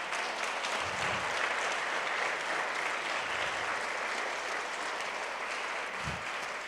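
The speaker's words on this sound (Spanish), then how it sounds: "¿Por qué no le da el aplauso al Señor?" Applause from a church congregation rolls on steadily during a Spanish-language sermon, soft and somewhat distant, a continuous patter of many hands with no speech over it.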